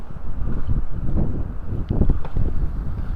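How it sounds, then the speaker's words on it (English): Gusty wind buffets the microphone in uneven low rumbles and puffs on a street in Itabashi, Tokyo, moderately loud, with no voices. "It is a bit of a windy day here today"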